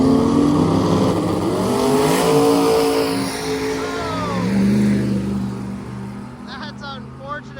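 A Monte Carlo drag car on 275 tires makes a pass at a drag week strip, its loud engine roaring and rising as it accelerates away, with a voice talking over and crowd noise near the end.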